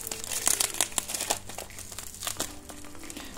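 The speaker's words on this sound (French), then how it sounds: "On va essayer de déballer ça." Plastic and cardboard packaging of an ant farm kit crinkling and rustling as it is unwrapped, a close, busy run of crackles with no talking.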